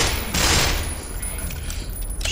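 Gunfire from a weapon in the Black Mesa video game, a dense continuous burst of rapid shots filling the clip at steady loudness with no talking.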